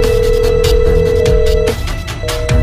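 Telephone ringing unanswered in a comedy scene from an Arunachal film, a steady electronic ring tone repeating in bursts with a brief gap near the end, loud and close, with no voices.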